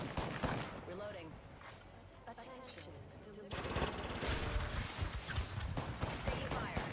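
Rapid bursts of gunfire in the video game Apex Legends, choppy automatic shots in quick strings that grow denser and louder partway through, with a voice speaking over the shooting.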